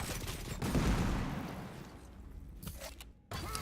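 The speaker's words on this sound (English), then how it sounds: "2 quick rails from Toxic takes him down over by the heavy." Railgun shots in a Quake Champions duel at the PGL Bucharest 2018 tournament: sharp gunfire bursts over dense, busy game noise, ending in a short lull before the action resumes.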